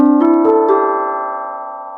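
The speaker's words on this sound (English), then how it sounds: "Tubular bells." Tubular bells chime a short rising four-note jingle, the first notes struck quickly and the last held and ringing out with a long, slowly fading bright metallic sustain. No voices accompany it.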